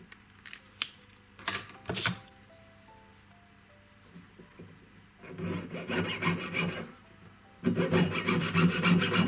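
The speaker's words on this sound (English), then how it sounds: "To do a little bit more filing here." A hand file rasps against a metal wave ring being fitted into a bezel setting: a few short strokes and taps, then two longer runs of rapid, close rubbing strokes.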